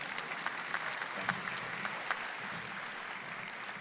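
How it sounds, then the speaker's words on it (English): An audience at a State of the County Address applauds American Heart Association speaker Peter Pimentel: a continuous wash of many hands clapping, steady and moderately loud, with a few sharper claps standing out. "Give Peter a round of applause."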